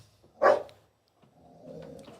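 A dog gives one short, sharp bark up close, followed by a faint, low grumble.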